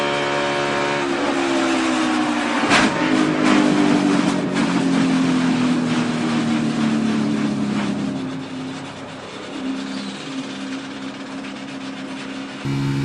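Onboard a NASCAR Cup Series stock car as a tire comes apart on a straightaway: a loud engine roar with a sudden sharp crack and rattling debris, then the engine note falling away as the car slows.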